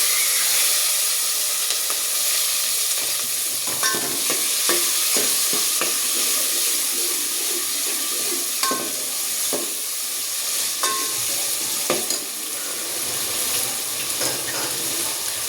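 Cumin, asafoetida, green chillies, tomatoes and curry leaves spitting in hot oil for Gujarati dal dhokli, a continuous sizzle with steam hiss and occasional spoon scrapes, no voices.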